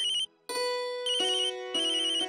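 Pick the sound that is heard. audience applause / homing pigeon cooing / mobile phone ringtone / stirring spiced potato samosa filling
mobile phone ringtone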